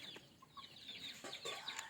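Hens cluck softly nearby while chicks give faint high peeps, a brief stretch of quiet barnyard chatter with no voices.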